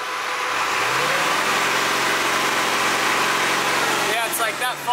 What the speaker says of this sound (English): Watch when I rev it up